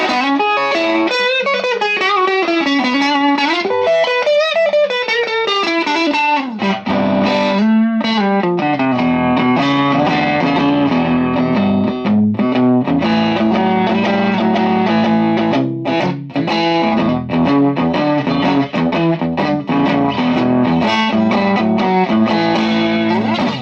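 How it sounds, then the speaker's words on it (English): Electric guitar through an overdrive pedal on its open setting, a loud distorted tone with some bite, playing a long run of chords and melodic phrases continuously without any speech. "The open setting sounds like this."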